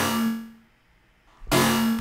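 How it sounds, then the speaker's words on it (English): A weird synth bass from an electronic music project starts as a bright, buzzy tone with a steady low pitch. It fades to near silence, then cuts back in abruptly just as loud. The sound is short and close. "It's just this weird ass bass that sounds like this."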